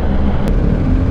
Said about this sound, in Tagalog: Boxer type engine kasi itong BMW na to